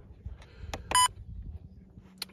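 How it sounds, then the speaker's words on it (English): A Ceyomur wildlife camera (CY65/CY60/CY55 series) gives one short, sharp electronic beep during setup, clear against faint handling noise and a low room hum, with a tiny click near the end. "Beep sound, let's get that bloody thing off."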